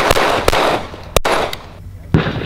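Gunshots crack at a shooting range: several sharp, loud reports in quick uneven succession, each one sudden and close.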